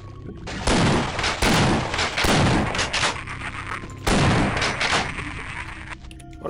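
Loud bursts of gunfire from the video game Half-Life, several rapid volleys in quick succession with brief pauses between them, close and dominating the sound.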